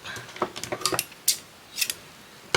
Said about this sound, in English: Snip that off.